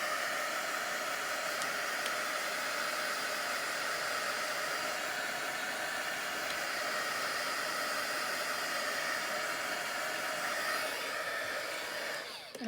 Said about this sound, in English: I'm going to turn this heat gun on for a second